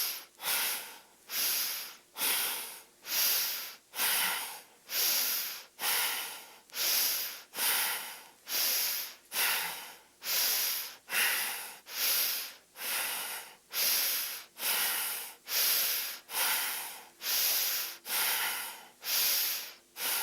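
Deep yoga breathing, long forceful exhalations alternating with inhalations in a steady rhythm of about twenty cycles, close and loud with no talking.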